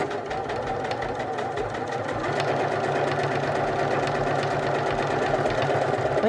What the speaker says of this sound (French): vous pouvez aussi carrément débrancher la pédale et lancer la marche, on va dire, de votre machine. Et ça va faire le travail tout seul